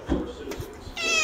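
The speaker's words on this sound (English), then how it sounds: "This is sweet little Juniper. The beautiful Tortie" A tortoiseshell cat at an animal shelter gives a short, close meow with some soft handling noise around it.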